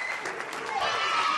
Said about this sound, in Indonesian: Kita kasih tepuk tangan yang meriah untuk mereka.